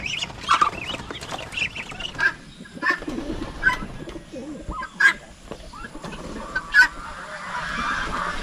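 Scattered pigeon calls and flutters in an open yard, with occasional honks and clucks from other fowl, moderately distant against a quiet background.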